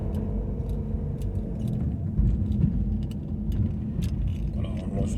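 A car interior rumbles with steady low road and engine noise while driving alongside a hospital parking lot in La Roche-sur-Yon, France, with faint clicks and a voice briefly audible near the end.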